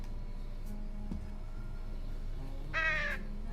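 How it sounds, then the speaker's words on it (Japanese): A single crow caws once, fairly loud, in the Trüberbrook video game, set against a steady low ambient hum and a soft thump earlier on. "カラスたちよ。"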